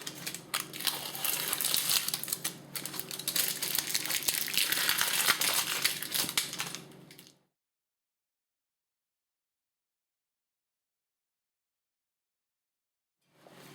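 Tape peeled off during a Ford Escort ZX2 brake drum rebuild, close crinkling and ripping for about seven seconds, then silence until a brief sound at the very end.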